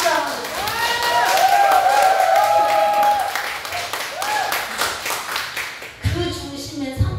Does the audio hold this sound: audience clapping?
yes